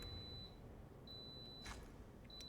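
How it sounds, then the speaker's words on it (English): An Instant Pot beeps to signal the end of its cooking cycle, giving faint, thin electronic beeps that repeat a few times and sit far back behind a steady noisy background. "That beeping is my Instant Pot"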